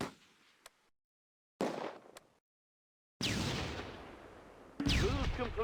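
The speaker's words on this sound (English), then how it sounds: "the mortar shifts fire to the rear position" Mortar fire in the wartime strategy game Close Combat: A Bridge Too Far at Arnhem Bridge: several loud separated blasts, each a heavy burst that rumbles and fades, with whistling sounds over the last ones and some gaps of silence.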